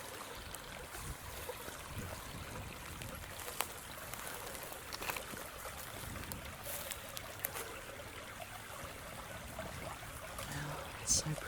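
A stream flows around both sides of a tree standing in its middle on an old farm property, a faint, steady trickle and wash of water in an outdoor setting with scattered light clicks and rustles.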